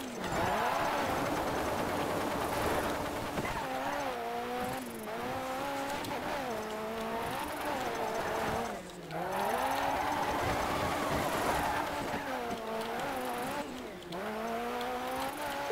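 Rally car in Dirt 3 drifting through gymkhana turns, engine revving up and down in long sweeping pitches while the tires squeal, with brief drops as it shifts or brakes and no voices over it.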